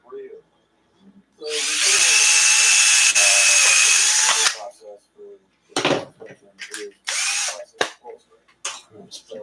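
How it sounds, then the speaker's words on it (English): A power drill whirs loudly for a few seconds, then stops; clunks, handling noises and brief speech follow, while drilling the back side of a part on an ARRMA Kraton remote-control car under repair. "Gonna drill the backside."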